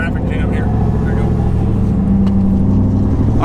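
Loud, close rumble of a turbo LS Camaro engine driving off, a steady low drone rising slightly in pitch while someone talks over it.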